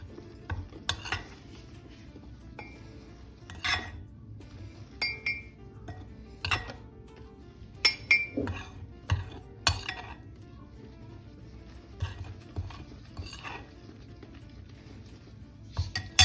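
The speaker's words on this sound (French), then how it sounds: "on va mélanger et on verra après si on en a encore besoin" Flour dough for donuts being mixed in a bowl, with a utensil scraping and clinking against the sides in irregular bursts over a quiet kitchen background.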